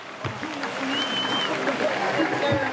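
A crowd at a kayak freestyle competition applauds a kayaker's final score, steady clapping heard beneath a loud announcer's voice.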